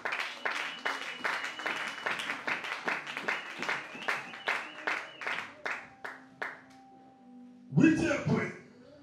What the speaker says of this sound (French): Acclamez plus fort pour Jésus-Christ.